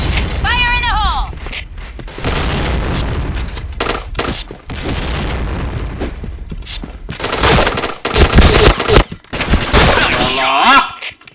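Gunfire in a shooter video game: rapid automatic bursts and single shots crack loudly, mixed with weapon mechanism clacks and booms, while players talk and shout over the action.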